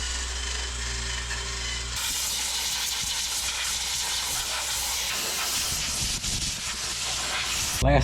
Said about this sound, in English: You can't hear me because of that loud compressor.